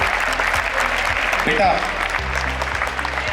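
Students applaud together in a hall, a dense, steady clapping that holds loud and even for a few seconds while a voice briefly speaks over it.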